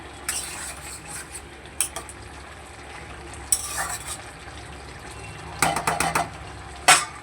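Sugar being stirred into a stalk vegetable curry in a pan, with a quiet simmering background broken by scattered bursts of spoon scraping and clinking against the pan, heard close and alone.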